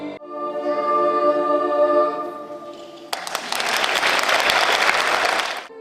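Enthusiastic concert audience applause following a choir performance of prayers and songs of world peoples, erupting loud and dense after a sustained sung chord fades out.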